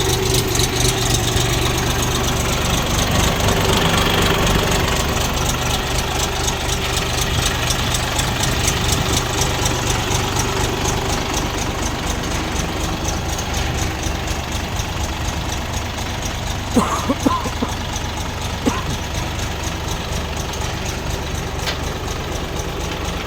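A small three-cylinder, four-wheel-drive Bulat 244 diesel mini tractor engine idles steadily, a low, even chugging that runs throughout with a few faint clicks near the end.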